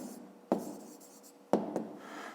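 A pen writes on paper during a fifth-grade geometry exercise, giving faint, close scratching strokes with two sharper taps as the tip meets the page. No one speaks.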